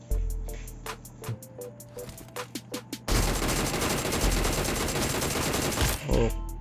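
Rapid gunfire in a mobile shooter video game: a few separate single shots, then a loud sustained burst of automatic fire lasting about three seconds, with a final shot at the end.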